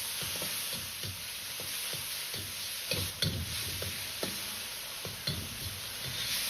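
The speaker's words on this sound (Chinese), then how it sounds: "再放入切好的姜葱一起炒香。" Tomato stir-frying in a wok with ginger and scallion, a quiet continuous sizzle broken by repeated spatula scrapes and knocks, close and without talk.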